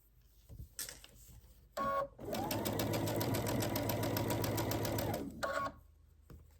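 A sewing machine stitches quilt block pieces together in one steady run of about three seconds, loud and close, with brief handling clatter before and after.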